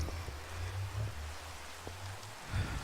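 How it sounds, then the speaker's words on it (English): Steady hiss of Minecraft rain falling, with soft patters and a low rumble underneath, moderately faint and unbroken, with no voices. "Rain on top of it."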